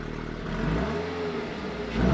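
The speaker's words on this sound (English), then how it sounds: "We've got a dual exit catback exhaust that I'm gonna just go ahead and drop the sound in" A 2023 Toyota GR86 sports car with a dual-exit catback exhaust idles with a deep, steady rumble, then the revs rise slightly near the end, heard close with no talking.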